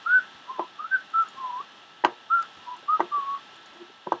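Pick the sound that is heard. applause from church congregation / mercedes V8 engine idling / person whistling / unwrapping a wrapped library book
person whistling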